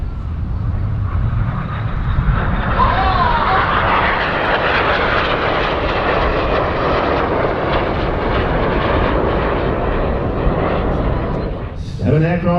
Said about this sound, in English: Seven aircraft pulling to the vertical.